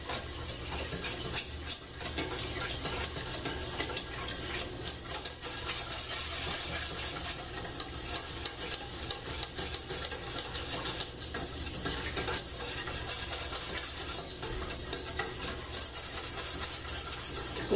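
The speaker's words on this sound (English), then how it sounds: "I just kind of start whisking all of this together so it don't clump." A whisk beats poppy seed salad dressing ingredients together in a bowl, a steady rapid scraping and clicking that runs continuously, close and fairly loud, with no voice.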